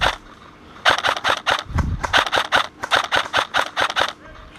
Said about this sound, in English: Eventually we encounter somebody and we get into a nice little firefight here.